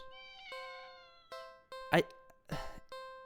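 A cat in a cardboard box at the end of an alley in a horror video game gives a few short meows, fairly faint and spaced apart, alongside someone talking.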